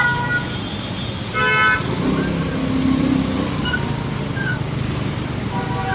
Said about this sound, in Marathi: सो फुल जाम पॅक झालेला जाम झालेला असा ट्रॅफिक.